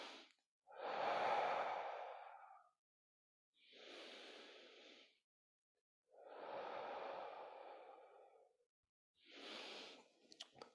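Slow, deep breaths in and out during a mobility exercise in a movement therapy class. Four long, close, airy breaths come with quiet pauses between them and no talking.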